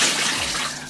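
Water splashes and trickles briefly as a washcloth is wetted, a short, bright, hissing burst that fades quickly, close by with no talking.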